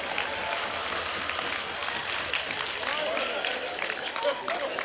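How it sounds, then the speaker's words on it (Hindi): An audience at a Hindi comic poetry gathering, a kavi sammelan, gives a fairly soft, scattered round of clapping that runs evenly across the moment amid faint crowd murmur. "ताली कमजोर है"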